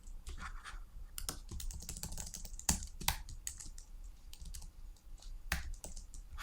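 Keys clatter on a computer keyboard in quick, irregular bursts of taps with brief pauses, close and fairly quiet, with no one talking.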